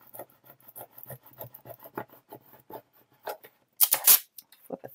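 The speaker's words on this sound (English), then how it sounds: "use your scraper tool to make sure that it is firmly adhering to transfer tape" Scraper tool burnishing Cricut transfer tape onto a vinyl design, rapid close scratchy strokes in an uneven rhythm, with a brief louder rustle near the end.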